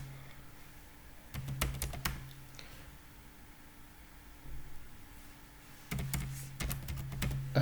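Bursts of typing on a computer keyboard, entering a web address for an Apache download, come in two quick clusters of clicky keystrokes separated by a quieter pause, close and fairly soft with no talking.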